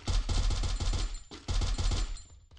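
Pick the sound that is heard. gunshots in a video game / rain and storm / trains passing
gunshots in a video game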